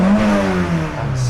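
Toyota AE86 Sprinter Trueno with a 5-speed manual, its engine revving in a steady, close, loud drone that rises and settles slightly, heard alone without voices.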